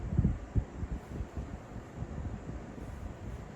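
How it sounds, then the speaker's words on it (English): A Woozoo globe fan runs at speed 3, blowing a steady low rumble of wind buffeting close to the microphone with no clear motor whine. "Now you're starting to get some wind noise when you go up close to it."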